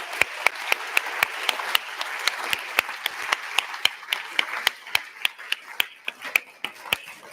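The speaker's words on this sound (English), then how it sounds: "Please put your hands together." An awards-ceremony audience at the Enginuity Skills Awards 2025 applauds as a CEO and a managing director are welcomed onstage: a steady wash of clapping with sharp, evenly spaced single claps standing out near the front.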